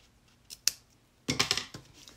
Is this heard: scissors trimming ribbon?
yes